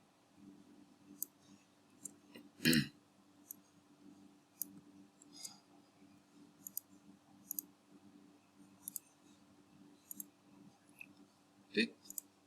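Computer mouse clicks while a JavaScript confirmation dialog is run in a browser: sparse, faint clicks scattered over a quiet room hum, with two sharper, louder clicks standing out.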